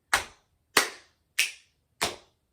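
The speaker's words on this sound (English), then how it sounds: "So the pattern is lap, clap, snap." Four sharp body-percussion hits about 0.6 s apart, children's lap, clap, snap pattern in a first and second grade music class, each a crisp, fairly close slap with a quick decay and silence between.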